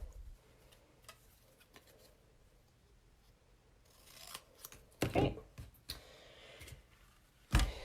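Crisp snips and crunches of scissors cutting paper, a few sharp cuts spaced out over quiet rustling, with a short spoken word.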